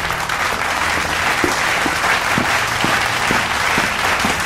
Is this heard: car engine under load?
no